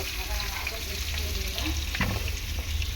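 Potatoes frying in a pan for a dahi chicken dish, a steady dense sizzle held close and constant for the whole stretch, with a faint scrape or stir partway through.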